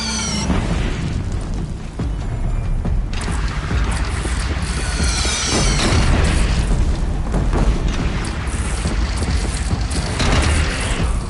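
Continuous heavy booming and mechanical clatter from cannon fire during a battle in the video game Horizon Zero Dawn, dense and loud throughout with overlapping blasts and rumble.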